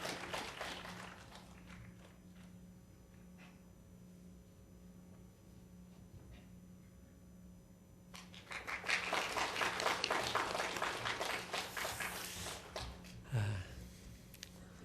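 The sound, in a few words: church congregation applauding for birthday candles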